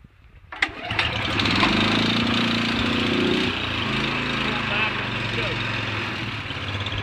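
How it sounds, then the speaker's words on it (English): A gasoline snowblower engine catches after a pull start on choke, then runs steadily with a loud, continuous rattling drone that settles slightly lower partway through. "So when the snowblower is running, keep it in slow."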